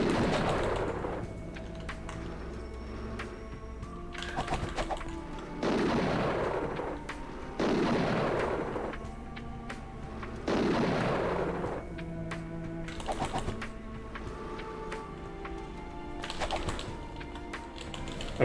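Explosions in the game Catherine, on its castle stage, sound as repeated loud bursts over a steady background of game music and noise, spread across the stretch.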